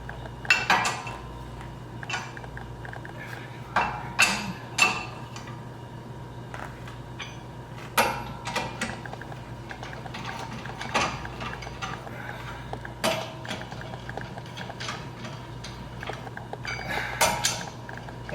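Lug nuts spun down by hand onto hubcentric wheel spacers on a Ford Mustang EcoBoost: repeated metallic ratcheting clicks and clinks in short bursts, close up over a low steady hum, with no speech.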